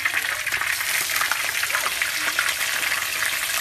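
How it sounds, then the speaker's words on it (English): Oil sizzles and crackles steadily and loudly throughout, a constant frying hiss with small pops and no talking. "once your plantain is done frying"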